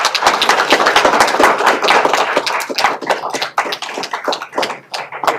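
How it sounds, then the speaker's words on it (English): Audience at a council meeting applauding card holders, a dense burst of hand claps that thins into scattered individual claps toward the end, close and loud. "let's give a round of applause to our card holders"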